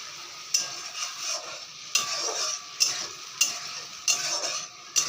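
Spices being stirred in a cooking pan, repeated scraping strokes of a utensil every second or so over a soft continuous sizzle, close and alone.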